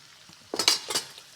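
Ginger garlic paste hitting a hot pan for Assamese mutton curry, with a few close clinks of a spoon against the pan and a soft sizzle that swells briefly and then fades.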